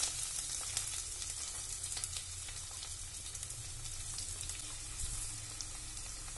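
Chopped onions and green chillies frying in a pan for a paneer gravy give a steady, close, continuous sizzle with a faint bubbling hiss, unbroken throughout and with no talking.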